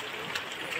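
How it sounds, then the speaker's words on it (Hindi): Steady rain pours down outdoors near a tent, a dense continuous hiss holding even and moderately loud throughout with no pauses. "यहाँ लगी हुई बारिश, बहुत बारिश लगी हुई है।"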